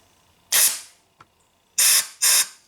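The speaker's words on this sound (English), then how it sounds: "We can blow some compressed air down in here and see where the oil squirts out really gently." Compressed air is blown through an oil passage in a Nissan CVT transmission shaft. Three sharp, close hissing bursts come out with a faint tick between the first and second, and the gaps between them are near silent.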